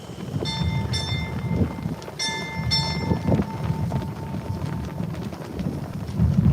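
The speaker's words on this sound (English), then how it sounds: "Sound 4 bells." A ship's bell is struck in paired rings at a naval retirement ceremony, clear metallic tones with a lingering ring over a steady hum of a crowded hall.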